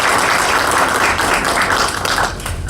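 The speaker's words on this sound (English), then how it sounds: "Let's give him a round of applause." A crowd at a city meet-and-greet in East St. Louis, Illinois, applauds with loud, dense clapping close by, steady throughout and easing slightly at the end.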